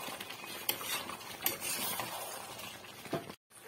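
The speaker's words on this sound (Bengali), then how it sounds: "দিয়ে ভালো করে নাড়িয়ে নেব।" Chicken curry with fried potatoes gets stirred in a pot, a spoon scraping and clinking against the metal in soft, irregular strokes, fairly faint and close with no one talking.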